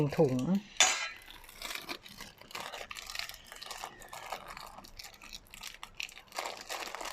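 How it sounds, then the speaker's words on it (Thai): A spoon scoops marinated meat from a container into plastic storage bags, with clinks of metal on dish and crinkling plastic in quick, irregular bursts, close by and without any talk. "เราก็จะตักแบ่งใส่ถุง ให้พอดีมืออ"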